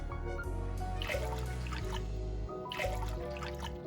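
Warm water poured into a bowl for vegan pizza dough, a steady close trickle and splash running under a low hum of room noise.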